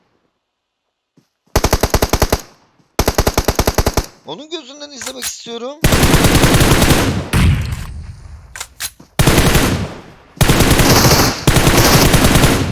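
Rapid bursts of loud automatic gunfire in PUBG Mobile, with short pauses between volleys, while a voice speaks briefly over the shooting.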